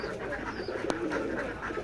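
Pigeons at a village pigeon farm in Betikhola, Keshabpur, Jessore give soft, throaty coos over a steady background murmur, with a faint higher bird call and one sharp click partway through.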